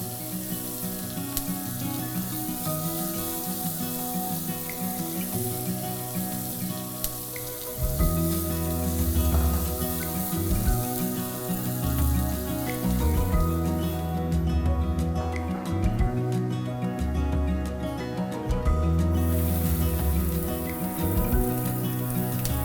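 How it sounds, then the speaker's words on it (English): Peppers steaming in a pan with a little water, a steady hiss and sizzle that grows louder partway through, heard over background music. "So we let this steam in just a little bit of water."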